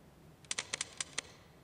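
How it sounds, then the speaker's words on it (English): About six quick, crisp keystrokes on a typewriter, close and clear, clustered in a short burst against a quiet background. "The typewriter sound, because really it was based on typing"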